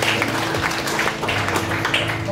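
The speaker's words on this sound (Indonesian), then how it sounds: "Berikan tepuk tangan buat Tuhan." A church congregation at a service claps together in a steady, dense wash of applause that continues at an even level throughout, with no talking over it.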